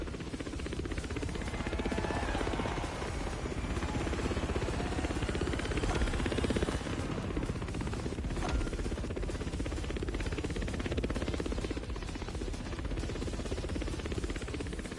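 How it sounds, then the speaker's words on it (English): Helicopter rotor blades in the video game The Crew Motorfest, heard as a loud, continuous, buzzing chop that holds steady throughout with no talking. "My helicopter blades are just cutting"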